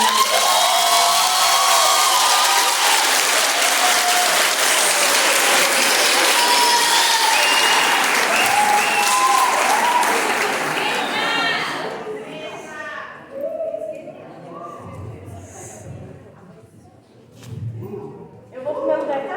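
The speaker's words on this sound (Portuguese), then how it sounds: "façam muito barulho e palmas para Emily" Dense, loud applause and cheering fill a youth church gathering for Emily, with shouts in the crowd for about twelve seconds before it thins into scattered claps and nearby talk.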